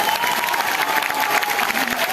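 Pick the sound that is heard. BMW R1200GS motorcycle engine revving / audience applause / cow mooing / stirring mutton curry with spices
audience applause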